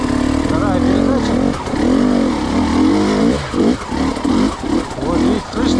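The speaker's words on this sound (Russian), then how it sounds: "Вот, видите, слышите, как работает мотор." An enduro motorcycle in second gear climbing stone slabs uphill at low revs, with a loud, close, chugging engine note that rises and dips with short throttle pulses toward the end.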